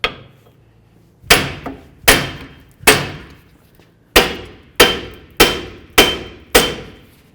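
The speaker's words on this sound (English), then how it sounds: "I'm gonna use my hammer. I'm gonna give this a couple loving bonks in pretty much every direction that I can." Hammer blows strike a stuck wheel bearing to drive it from the steering knuckle of a 2007-12 Nissan Sentra: eight sharp, ringing metallic bangs, close and loud, spaced unevenly with brief pauses between groups.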